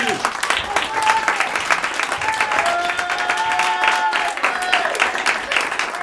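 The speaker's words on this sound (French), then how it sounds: "puis on peut l'applaudir aussi" A theatre audience applauds steadily, a dense patter of many hands clapping, with some voices and whistles mixed in.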